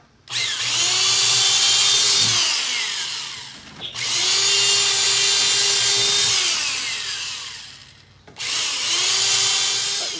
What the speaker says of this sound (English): we'll start drilling this. We'll do 1/4 inch drill bit for the 1/4 inch clearance bolts